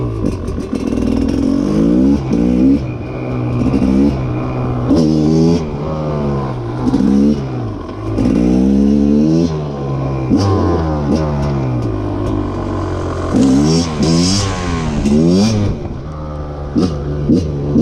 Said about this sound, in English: I do love the sound of a two-stroke, not gonna lie.